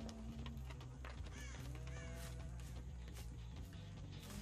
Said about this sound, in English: Crows came back down.